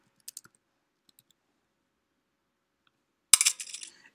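Keys tapped on a Mac keyboard to enter a password: a couple of faint clicks, then a quick close burst of several keystrokes after near silence.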